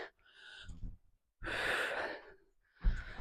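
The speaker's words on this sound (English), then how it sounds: "I know you can hear me breathing" Heavy workout breathing from a person exercising on a step, with three loud, close bursts of gasping breath separated by short pauses, alone without talk.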